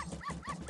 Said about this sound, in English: I like how the dog is freaking out.